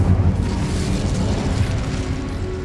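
An Incendio fire spell cast in Hogwarts Legacy, a loud, dense roaring blast that starts with a punch and rumbles on evenly for a couple of seconds on its own.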